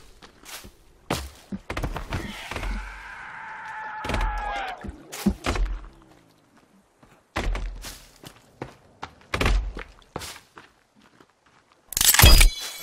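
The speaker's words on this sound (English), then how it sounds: "Oh, he's destroying the building!" A mutant smashing a base building in the survival game The Forest: heavy, irregular thuds and crashes ring out in clusters, with a drawn-out groaning tone early on and a loud crunching impact at the end.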